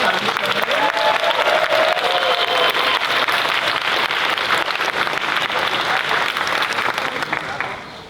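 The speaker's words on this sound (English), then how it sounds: "So let's give another round of applause to" Sustained audience applause at an Indigenous food sovereignty gathering, with a few voices and whoops over it, fading toward the end.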